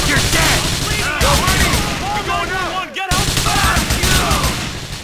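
An AK rifle fires in Grand Theft Auto IV, dense rapid bursts of loud, close gunfire running almost continuously, mixed with other chaotic in-game combat noise.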